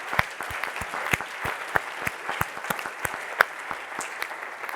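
Scattered audience applause at an ALS research annual meeting, a moderate patter of individual claps with a few sharper, nearer hand strikes standing out.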